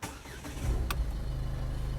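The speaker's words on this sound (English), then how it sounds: "let me try starting the vehicle right now." A Ford Figo Titanium hatchback starts up, a brief cranking click followed by the engine settling into a steady low idle heard from inside the quiet cabin.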